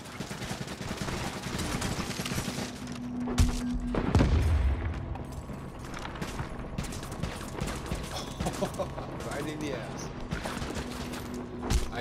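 Gunfire in The Division, with rapid bursts of automatic shots crackling continuously and a heavier boom partway through. The shooting is fairly close and loud, and a voice can be heard faintly beneath it.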